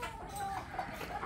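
Brief low clucking from a young stag gamecock in conditioning, quiet and close, a couple of short notes with nothing else over them.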